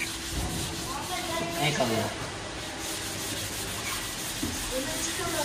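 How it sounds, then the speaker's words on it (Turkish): Steady wet rubbing and scraping of 400-grit wet sandpaper against a car headlight, close by, with faint voices talking in the background. "Su zımparası çekiliyor."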